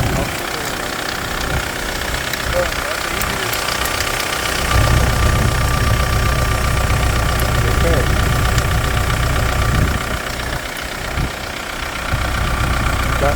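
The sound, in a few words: car engine idling with a chain-like slapping knock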